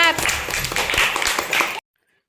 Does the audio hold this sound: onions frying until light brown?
no